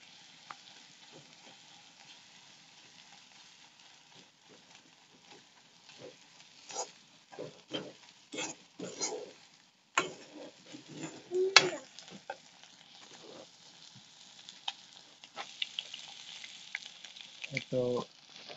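Spices for a duck curry frying in a pan and being stirred, with a steady low sizzle broken by repeated scraping and clattering strokes of the spoon, loudest in bursts toward the middle and end.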